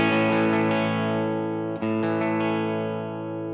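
An electric guitar through a slightly crunchy amp with its volume knob turned down rings out as a sustained, fairly loud chord with mild distortion, briefly re-struck midway and slowly fading.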